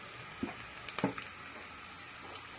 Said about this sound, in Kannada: ಈರುಳ್ಳಿ ಫ್ರೈ ಆಗಿದೆ. ಇವಾಗ ಇದಕ್ಕೆ ಮೆಣಸಿನಕಾಯಿ ಆಡ್ ಮಾಡೋಣ.